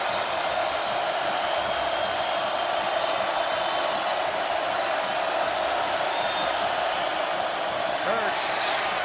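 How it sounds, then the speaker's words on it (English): Crowd at a college football game between Texas and Kansas State, a steady dense roar of many voices swelling throughout, loud and continuous, with a brief sharp whistle-like sound near the end. "Crowd coming alive."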